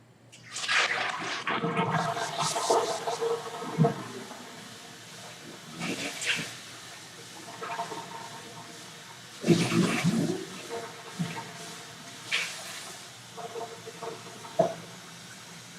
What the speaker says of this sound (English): I need to change the water.